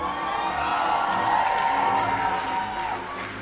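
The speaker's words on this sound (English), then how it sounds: "You're applauding liver damage." A live comedy audience in Chicago cheers and whoops loudly in one sustained swell lasting a few seconds, fading at the end.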